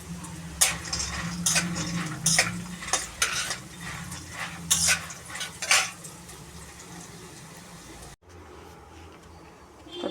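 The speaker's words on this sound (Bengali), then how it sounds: "তো আমি এখন তেলের উপরে তাহলে বড়িটা এখন ভেজে নিই।" Bori, lentil dumplings, fry in oil in a pan with a low sizzle, broken by sharp clinks and scrapes of a spoon stirring against the metal, close by, before the sound cuts off abruptly.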